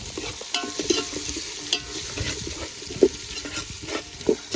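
Chicken being stirred in a pan with onion and curry leaves while cooking outdoors in a forest, giving a steady soft sizzle with scraping strokes and a few sharper clinks.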